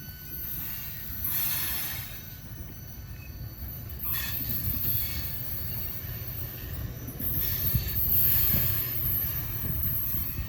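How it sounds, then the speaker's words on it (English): A heavy loaded freight train rumbles steadily past with locomotives droning hard, while high-pitched wheel squeals come and go over the low roar. "I still hear the locomotives."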